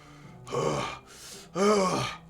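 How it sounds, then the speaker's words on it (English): Sharp breathing in Doki Doki Literature Club Plus: two strained, gasping breaths, the second louder and harsher, with a fainter exhale between them, close and alone. "What's that noise? It's coming from around the corner. Sounds like sharp breathing."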